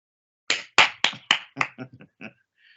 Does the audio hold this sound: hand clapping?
yes